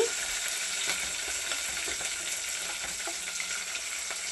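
Curry leaves, onion, ginger and green chilli frying in a pan of oil, a steady close crackling sizzle running throughout with faint stirring clicks and no talking.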